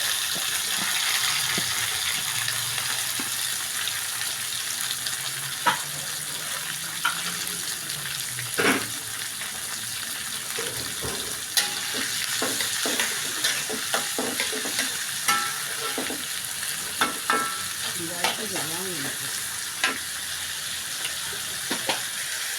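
Onion and tomato frying in a pan with mustard seeds and fennel, a constant sizzle under repeated scraping and stirring strokes of a spoon, with occasional sharper clacks against the pan; no voices.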